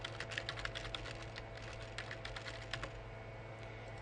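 Computer keyboard typing, a brisk run of close, crisp key clicks with a short pause near the end, heard alone over a low steady hum.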